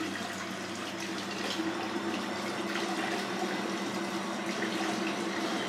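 Cold water runs steadily from a tap into a sink during a traditional straight-razor shave, a continuous close hiss and splash that holds at an even level throughout, with no voices.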